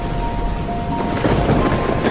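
Heavy rain pours down in a thunderstorm, a dense, loud, steady wash of falling water with a deep rumble of thunder swelling beneath it, with no voices.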